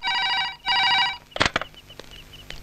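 An old telephone bell rings in two loud, long trills separated by a short gap, followed by a sharp clatter as the receiver is picked up, then faint small noises.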